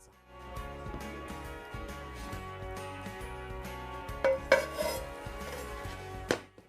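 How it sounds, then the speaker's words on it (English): A potato frittata is flipped in a pan with a flat lid: pan and lid clatter and scrape over a steady hum, with a few sharp metallic knocks near the end and no talking. "So it's time to flip it, and I'm going to use the lid itself."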